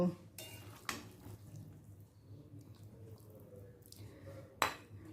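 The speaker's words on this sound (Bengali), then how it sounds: "এবার অন্য পাত্রে তুলে নেব" Pumpkin curry scooped from one pot into another, spoon scraping and clinking on metal with soft wet stirring, faint and close, punctuated by a couple of sharper knocks.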